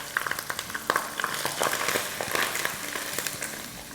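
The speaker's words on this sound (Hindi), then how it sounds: "अब यहाँ हमारा मसाला अच्छे से भुन रहा है" Ground spices, coriander, red chili, cumin and garam masala with salt, fry and crackle in a pan for egg korma, a dense close sizzle with small scraping stirs throughout and no talk.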